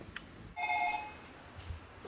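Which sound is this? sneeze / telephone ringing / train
telephone ringing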